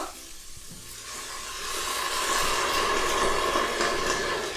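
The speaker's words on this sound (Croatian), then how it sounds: "Na ovako kratko poprženi luk dodajemo bijelo vino." White wine poured onto onion that has been briefly fried, setting off a loud, steady hissing sizzle that swells after the first couple of seconds and holds without any talk.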